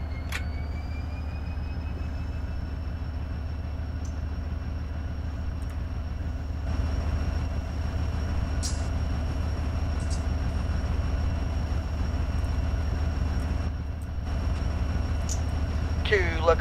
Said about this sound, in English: Two locomotives there